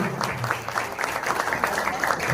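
An audience at a felicitation ceremony during a hospital inauguration applauds in a continuous, fairly close patter of many hands clapping, with faint voices mixed in.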